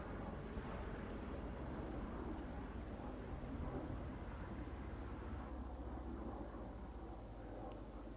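Planes fly overhead during the 76th anniversary commemoration of Operation Market Garden in Oosterbeek, a low, continuous engine drone that rumbles steadily throughout without voices.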